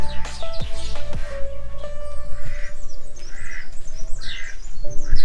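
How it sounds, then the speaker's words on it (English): Several birds squawk and chirp nearby in irregular bursts in a forest area of Coorg, Karnataka, harsh calls mixing with brighter tweets, with no talking. "You have some birds here on the left side."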